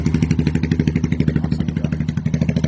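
A motorcycle with a VMAX full exhaust and no baffle idles close by, a loud, even, rapid throb of exhaust pulses with a slight mechanical clatter throughout.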